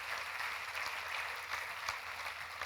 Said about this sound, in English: may I ask each one of you to give a big round of applause to yourself